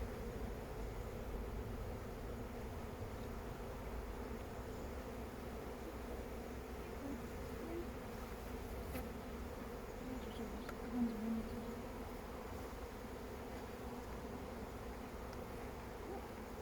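Honeybees hum steadily around a hive at a bee school in Scotland, a low, even drone lasting throughout, fairly quiet and with no talking.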